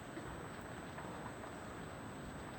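Heavy rain falls on a riverside village, an even, quiet hiss of drops that holds steady throughout with no talking.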